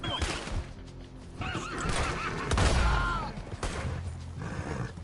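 Horse in Red Dead Redemption 2 letting out a whinny amid hoofbeats and scattered gunfire, with someone talking over the game sounds.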